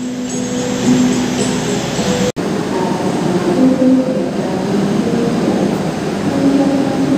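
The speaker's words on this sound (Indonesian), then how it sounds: "Jadi ada 8 rangkaian gerbong yang ditarik oleh lokomotif." A steady rumble of a locomotive-pulled eight-carriage Wijaya Kusuma train idling at a station platform, with low mechanical hum and faint tonal whines throughout, no voices.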